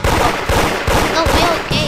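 Repeated loud blasts from a bazooka in the Toilet Tower Defense video game, arriving in a steady rhythm of heavy booms over game noise.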